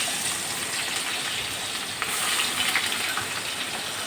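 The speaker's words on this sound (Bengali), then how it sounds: "এটা একটু লাল লাল করে ভাজবো।" Onions frying in hot oil left over from frying fish, a steady broadband sizzle that holds near and even throughout, with slight crackling swells toward the end.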